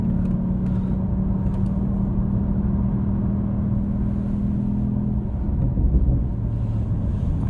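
A BMW 760Li in sport mode, its engine rumbling steadily at close range with a low droning note and a few faint crackling pops from the exhaust early on.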